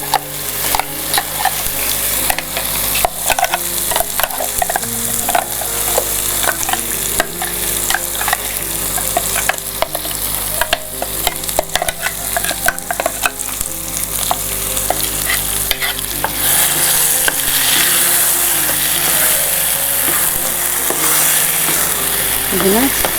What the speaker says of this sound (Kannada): ಚಟ್ನಿಗೆ ಒಗ್ಗರಣೆಯನ್ನು ಕೊಡ್ತಾ ಇದ್ದೀವಿ